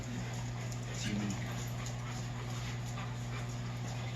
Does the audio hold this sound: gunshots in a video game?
no